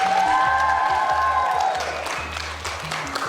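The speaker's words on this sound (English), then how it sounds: "give a big round of applause for Greg Foot from Whizz Whizz Bang Bang" An audience breaks into a burst of applause and cheering, a dense wash of clapping that is loud at first and then eases off slightly.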